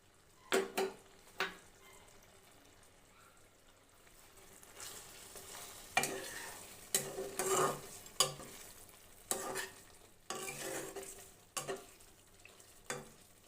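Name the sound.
fried masala added to pan and stirred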